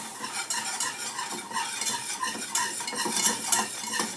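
A whisk beats melted butter and flour together in a pan for Alfredo sauce, a fast, steady metallic scraping and clicking heard up close, with no talking.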